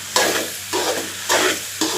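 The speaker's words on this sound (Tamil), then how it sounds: "சங்கு சேமியா போட்டாச்சு. இப்போ நல்லா அதை மிக்ஸ் பண்ணி விட்டுக்கலாம்" Conch-shell semiya being stirred in a hot pan, with four rhythmic scraping strokes over a steady sizzle, close and fairly loud, no voices.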